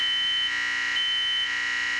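Smoke detector alarms sound during a home fire drill, a loud, steady high-pitched electronic tone that pulses faintly in level and fills the whole stretch without voices.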